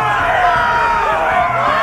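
An arena crowd cheers in the Game of Thrones Telltale video game, a loud sustained roar of many voices with shouts rising over a rumbling murmur.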